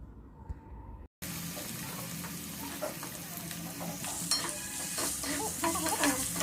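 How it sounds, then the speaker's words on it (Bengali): Potato pieces and drumstick pieces fry in hot oil for a Bengali shukto, giving a steady close sizzle with occasional stirring scrapes and bubbling crackles after a brief quiet start. "আলুটা হালকা ভাজা হয়ে এলে এর মধ্যে দিয়ে দেবে টুকরো করে রাখা সজনে ডাঁটাগুলো।"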